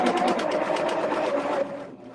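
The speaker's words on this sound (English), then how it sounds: "if I'm sewing on something heavy like this, I can go from that onto something a lighter weight fabric" A home sewing machine stitches steadily through heavy layered fabric in a rapid, even mechanical whir that runs loud and continuous, then slows and quiets toward the end.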